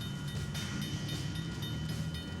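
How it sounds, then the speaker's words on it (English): A train passes at a rail crossing, blocking a car chase, with a steady loud rumble and rattle of rail cars throughout and no voices. "And before long, they're blocked by a passing train."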